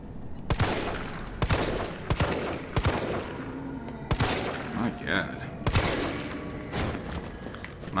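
Shotgun blasts in Resident Evil 3 boom out as sharp, loud reports, about eight of them spaced roughly half a second to a second apart, with a player's voice talking briefly between the shots.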